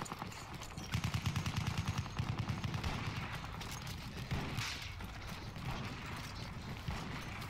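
Rapid gunfire in Battlefield 1 from an enemy shooter, a quick rhythmic burst of shots early on followed by further firing and mechanical clatter, fairly faint overall.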